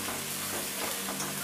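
Chopped onions frying lightly in a pan for spicy semolina pulao give off a dense, steady sizzle, close and continuous, with faint stirring scrapes mixed in.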